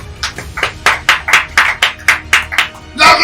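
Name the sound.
congregation applauding the Lord Jesus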